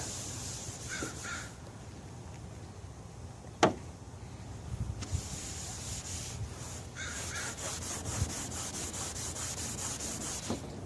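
Pinstripe tape residue is rubbed off a golf cart body being prepared for paint, making a steady close scrubbing sound in quick repeated strokes, with a sharp knock partway through.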